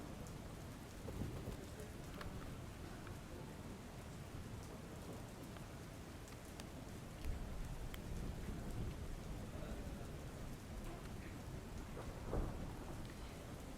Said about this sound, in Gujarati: હાલમાં પણ ગિરનારમાં ભારે વરસાદ થઈ રહ્યો છે